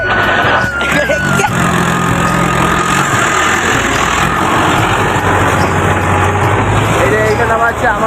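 A tractor engine idles loud and steady close by in a village setting, a constant mid-pitched rumble under the whole stretch while people talk over it.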